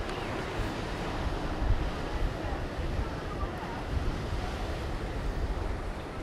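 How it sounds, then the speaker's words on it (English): Ocean waves surge continuously along a rocky volcanic coast, a dense, loud roar mixed with wind buffeting the microphone. "Ooh, waves."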